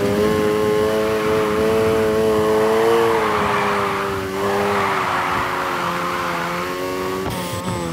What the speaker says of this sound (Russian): Жмем на газ и рулим.